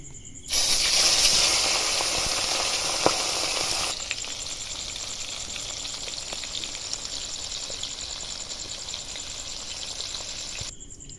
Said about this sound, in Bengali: আবার ওই তেলের মধ্যে মাথাগুলো ভেজে নেব